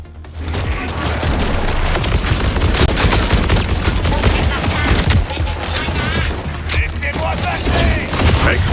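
Dense, continuous video-game gunfire, rapid overlapping automatic bursts raining on the player, loud and close for the whole stretch with a constant low rumble beneath.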